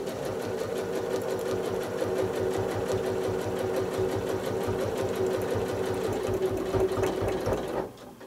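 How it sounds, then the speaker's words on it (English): Up close, a sewing machine doing free-motion quilting drives its needle through dense quilted fabric in a pinwheel block, with a steady, fast, mechanical chatter that stops abruptly near the end. "listen to my machine as I get into this area and just how dense it is and what that sounds like as the needle's piercing the fabric"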